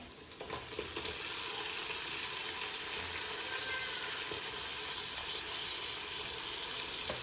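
Chopped tomatoes frying in hot oil with onions and ginger garlic paste for egg pulao, a dense, steady sizzle that holds at an even level throughout with faint crackles and no talking.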